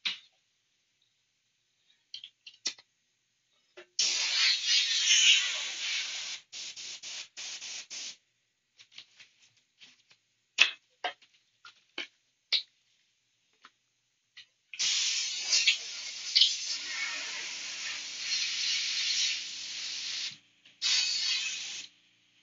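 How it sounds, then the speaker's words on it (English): An airbrush being cleaned sprays in several long hissing bursts broken by short sharp puffs and clicks, with a faint steady hiss from an air leak between them. It is close and fairly loud, with no voices. "I'm going to clean this airbrush just a little bit. God, there's like a serious leak going on somewhere."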